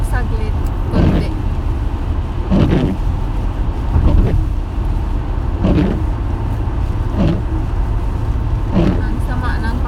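Car driving through light traffic in bad weather on the way to a Walmart, a steady low road rumble with periodic swells from passing vehicles, faint and continuous beneath occasional talk.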